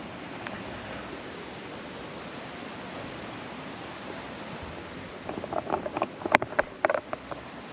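River water rushes in a steady, continuous roar, with a few light knocks and clatters near the end.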